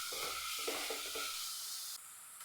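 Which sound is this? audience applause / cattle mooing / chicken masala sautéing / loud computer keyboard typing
chicken masala sautéing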